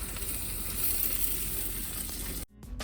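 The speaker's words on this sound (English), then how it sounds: "do you hear that sizzle, guys? That is a beautiful sound" Steady hot sizzling crackles close by from a beef lasagna in the oven, a bright continuous hiss that cuts off sharply near the end, followed by a few quieter clatters.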